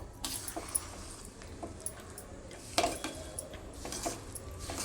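Faint spoon-on-pan scraping and clinking as a sesame-jaggery tilgul ladoo mixture is stirred off the heat, irregular soft knocks over a quiet background, no voices.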